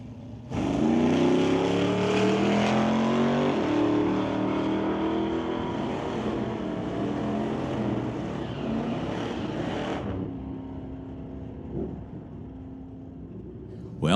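A 2011 Chevy Camaro and a 1983 Oldsmobile Cutlass launch side by side at an NHRA Summit ET drag race, engines roaring and rising in pitch as they pull away for about ten seconds, then cutting off to a quieter rumble.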